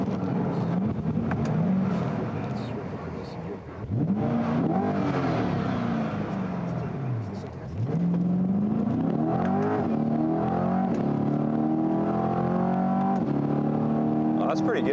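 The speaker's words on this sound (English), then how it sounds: "I kind of want to do a sneaky little launch in this thing." A C8 Corvette accelerates hard from a launch, its engine note climbing through several gear changes with brief dips between shifts, heard from inside the car with a person talking over it.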